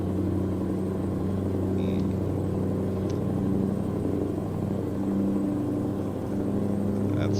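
A deep, steady Scania 730 V8 truck engine in a video game rumbles continuously at idle with a low throaty growl, close and constant throughout.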